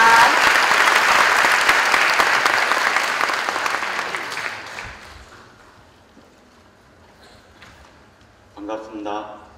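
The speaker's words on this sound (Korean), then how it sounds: "큰 박수 부탁드립니다." Loud audience applause at a Korean special lecture event as the education superintendent is welcomed to the stage, fading away over several seconds until a voice speaks near the end.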